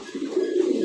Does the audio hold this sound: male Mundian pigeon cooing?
yes